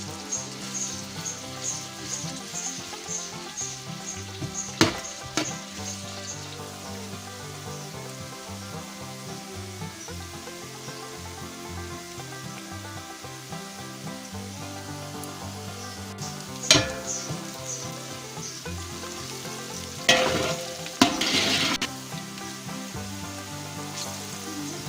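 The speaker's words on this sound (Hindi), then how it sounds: "प्याज को घी में अच्छी तरह हम फ्राई कर लेंगे।" Onions frying in ghee for a vegetable biryani made with 1.5 kilograms of rice, heard as a steady close sizzle throughout, with occasional louder stirring scrapes and spatters.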